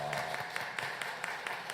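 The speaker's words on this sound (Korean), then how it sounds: "잠시 자리에서 일어나시면 우리가 환영의 박수로 맞이하겠습니다" A church congregation gives a short, sparse round of rhythmic hand claps to welcome a soloist during Sunday worship, soft and somewhat distant in a reverberant hall.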